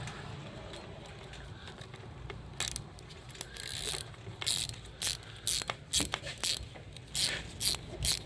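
A ratchet on a small 1/4-inch extension loosens a hose band during throttle body replacement on a 2008 Suzuki Forenza, with rapid rhythmic clicking bursts that grow steadier and louder toward the end.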